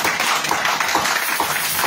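A church congregation applauding together during a worship service, steady dense clapping sustained throughout, fairly loud and close with no speech.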